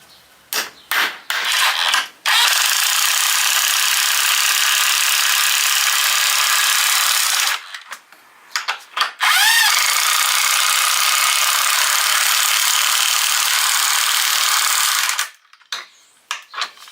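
A Wild Edge 7.5 amp electric impact wrench with a 1/2 inch drive, loud and close, hammering in two long sustained bursts of several seconds each, separated by short choppy triggers and brief pauses.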